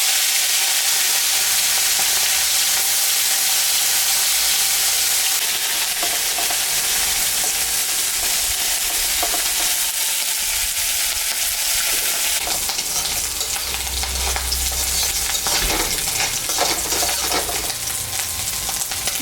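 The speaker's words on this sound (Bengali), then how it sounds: "মাছটা এখন আমি ভাজে নেব।" Fish seasoned with salt and turmeric frying in oil in a pan, a dense, loud, continuous hiss and crackle that swells and grows busier in the later part, with no speech.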